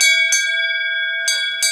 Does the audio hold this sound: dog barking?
no